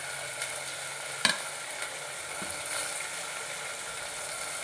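Tomatoes added to onions frying in a pan for dal baati, with a steady close sizzle under scraping stirring strokes and one sharp clack of a utensil against the pan.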